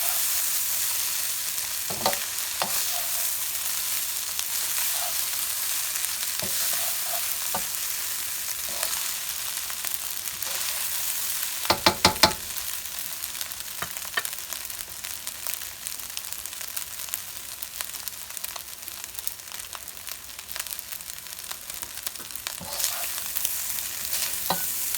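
Canadian bacon and pineapple fried rice sizzles steadily in a pan, a continuous close crackle with occasional sharper scrapes and stirs, including a louder burst of clatter partway through, no voices present.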